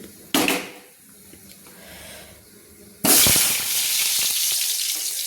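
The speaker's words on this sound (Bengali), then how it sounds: "আলুগুলো আমি একটু ভেজে নেব, তেলে আমি ভেজে নেব।" A sudden loud sizzle as potatoes hit hot oil in a wok, an earlier burst too, then a steady crackling fry with spatula clinks.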